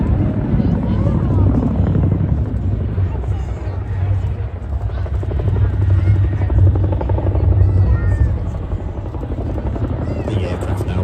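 A Boeing Chinook helicopter performs a flying display at an air show, its heavy rotor thump loud and continuous, with a commentator talking over the noise.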